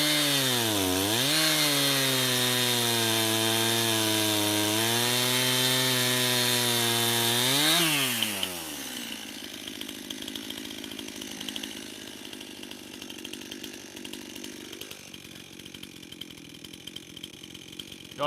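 A chainsaw revs high and loud, bogging briefly as it bites into limb wood being cut for firewood, then drops to a rough, sputtering idle for the rest of the clip.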